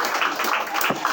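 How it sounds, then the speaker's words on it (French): Applause breaks out at a family celebration meal honouring the head of the maternal clan, a dense burst of clapping from a crowd lasting only a moment. "Une acclamation pour lui aussi."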